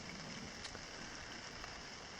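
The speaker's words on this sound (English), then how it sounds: "not raining very hard, so more misting than it is raining now" Light, misting rain falls outdoors on a Boundary Waters camping trip. It makes a soft, even, continuous hiss with no breaks and no voices.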